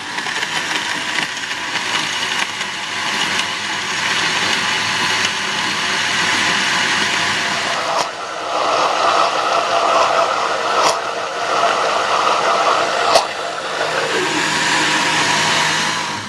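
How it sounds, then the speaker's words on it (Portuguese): A blender whirs loudly, mixing condensed milk, cream and passion fruit pulp into a mousse; the motor runs continuously for the whole stretch, changing pitch slightly as the thick mixture churns. "depois de ter batido no liquidificador tudo, os três ingredientes, leite condensado, polpa de maracujá com creme de leite"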